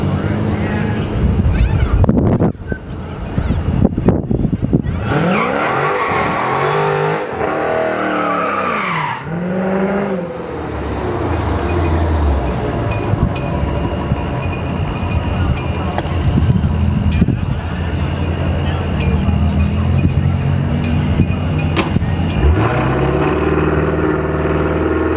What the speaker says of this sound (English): All right, the Scat Pack 1320 coming back.